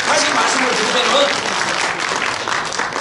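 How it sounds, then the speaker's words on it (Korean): Lecture audience at a nuclear-armament coalition launch event breaks into sustained applause, a dense wash of clapping held at an even level, with a voice speaking faintly underneath. "요럴 때 박수가 나와야 됩니다"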